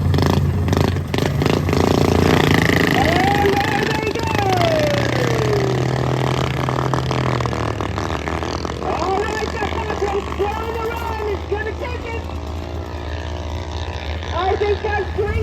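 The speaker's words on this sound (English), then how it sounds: "Final mini bike race." Mini bike race engines at a drag show event, buzzing small motors revving and rising in pitch, loud and continuous with crowd noise and a voice over them.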